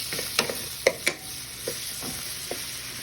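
Chicken fries in grease in a pan, with a steady sizzle broken by several sharp stirring scrapes and clicks at close range.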